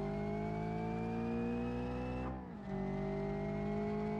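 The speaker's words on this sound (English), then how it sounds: "And now we're going to put that gas all the way down" A twin turbo drag car in BeamNG Drive runs at full throttle, its engine a steady, loud multi-tone drone that briefly dips and drops in pitch before settling again, as though during a gear change.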